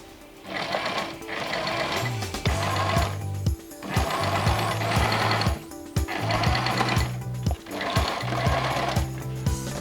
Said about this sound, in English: the next step is to run a stitch from edge to edge on the shoulder line